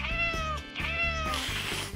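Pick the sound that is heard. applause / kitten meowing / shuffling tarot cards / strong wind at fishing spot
kitten meowing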